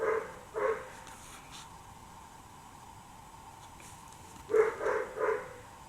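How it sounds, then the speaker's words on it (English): A dog barks in short bursts in the background during indoor Halloween card crafting: two barks near the start, then a quick run of three, moderately loud but not close, with quiet room noise between. "I'm sorry if you guys can hear the dog barking."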